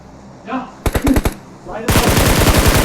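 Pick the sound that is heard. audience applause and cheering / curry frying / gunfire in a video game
gunfire in a video game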